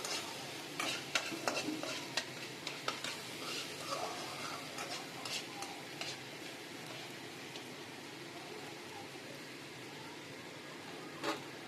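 Meat fries in oil that is starting to separate while it is stirred, a soft steady sizzle with a scatter of scraping spoon ticks near the start and one more near the end.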